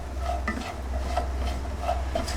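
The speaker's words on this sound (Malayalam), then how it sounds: "എന്നാലും ഇപ്പം സവാള വഴന്ന് കിട്ടട്ടെ." Sliced onions with salt sautéing in oil in a pan over medium heat for pepper chicken, a soft steady sizzle with repeated scraping stirs of a spoon, close and alone.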